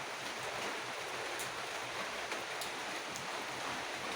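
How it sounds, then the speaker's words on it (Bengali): Rain falling as a dense, even hiss that stays steady throughout, fairly soft with no voices over it. "বৃষ্টি হচ্ছে"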